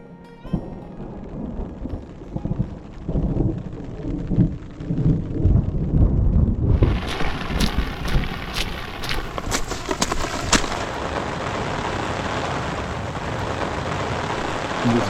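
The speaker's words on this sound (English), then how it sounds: "this is more of a storm than I thought it was going to be" A thunderstorm breaks over a high mountain trail in Colorado. Heavy rumbling thunder rolls in first, then steady loud rain drums on nearby surfaces, with close crackling patter. No one speaks.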